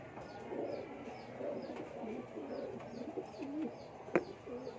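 Racing pigeons coo softly and repeatedly in a loose rhythm, with low rolling calls overlapping at moderate distance, faint chirps above them and one brief sharp click near the end.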